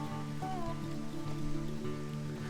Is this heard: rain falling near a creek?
yes